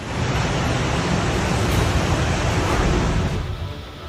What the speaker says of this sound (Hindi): यहाँ सैलाब की लहरें शहर में दाखिल होकर कहर बरपा रही हैं।